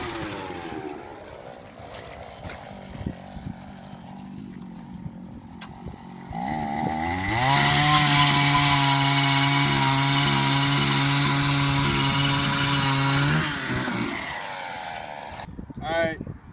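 A powered ice auger drilling through frozen lake ice for ice fishing, its engine revving up to a loud steady whine for several seconds before cutting off, with a voice talking before it starts.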